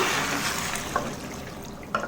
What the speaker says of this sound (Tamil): ரெண்டாவது தேங்காய் பாலை தண்ணியாக அரைச்சி வடிகட்டி வச்சுருக்கோம் அதை சேர்த்துடலாம்